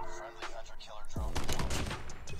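Gunfire in Call of Duty Mobile, a loud, fast run of shots that starts about halfway through and keeps going to the end, following a quieter stretch with game noise.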